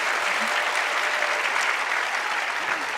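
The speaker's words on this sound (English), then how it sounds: "let's do one trial run of applause" Audience applause during a trial run at a conference closing plenary, steady sustained clapping from a large crowd throughout, even and moderately loud.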